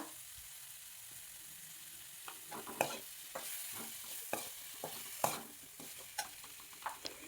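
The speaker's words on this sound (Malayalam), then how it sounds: "അത് അതിലിട്ട് 1 മിനിറ്റ് നേരം ഒന്ന് വഴറ്റാം" Tomatoes sauté in a pan over an okra curry base, a steady soft sizzle running throughout with repeated sharp scraping clicks of a spoon stirring in the second half.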